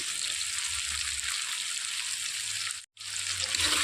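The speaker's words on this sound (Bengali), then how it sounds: "এখন আমি সব মশলাগুলোকে ভালো করে কষিয়ে নেব।" Spices with chili powder sizzle and fry in a pan for a mutton curry, a steady close hiss that cuts out briefly near the end before resuming, with no talking.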